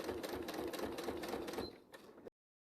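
Sewing machine running steadily as it stitches once around a black-on-black batik quilt block, a quick rapid needle rhythm up close that slows and stops after about two seconds.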